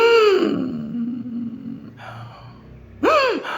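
Imitated agonal breathing, the gasping sign of cardiac arrest, voiced by a person: a drawn-out falling groan-like gasp, a quieter breathy pause, then a sharp loud rising-falling gasp near the end.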